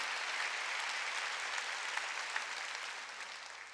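A church congregation applauds during a Sunday worship sermon, a steady wash of many hands clapping at moderate distance, sustained throughout and slowly fading toward the end.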